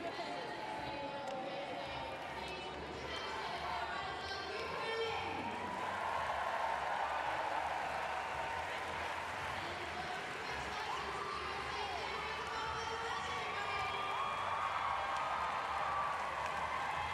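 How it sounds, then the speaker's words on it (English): A packed arena crowd at a London 2012 Paralympic women's sitting volleyball semifinal between the USA and Ukraine roars and applauds steadily throughout, while a commentator talks over the noise. "The crowd absolutely loves it."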